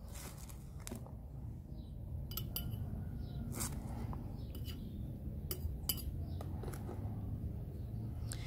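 A spoon scoops cornmeal into a container, giving scattered light clinks and scrapes over a soft background murmur.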